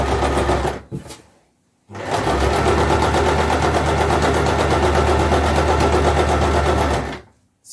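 A sewing machine stitches a pocket seam in two runs, a short burst and then a long steady loud whir of about five seconds, with a brief pause between them and no talking.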